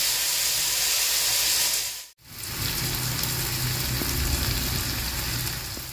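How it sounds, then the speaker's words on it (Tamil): Onion, tomato, green chilli and ginger sauté in a pan with a loud, dense sizzling hiss that drops out briefly and then resumes, continuous and close, with no voices. "இப்போ பாருங்க, வெங்காயம், தக்காளி பழம், பச்சை மிளகாய், இஞ்சியம் எல்லாமே நல்லா வதங்கிட்டுது."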